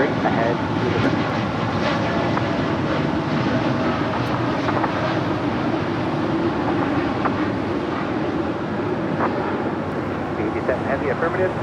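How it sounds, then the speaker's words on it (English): A United Airlines Boeing 787-10 Dreamliner at LAX gives off a steady, broad roar of jet engine noise that holds loud and unbroken throughout, with no clear rise or fall. "That was United Airlines for 1897 heading to Chicago O'Hare, the 787-10 Dreamliner"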